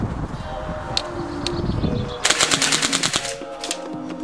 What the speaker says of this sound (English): The rate of fire is incredible.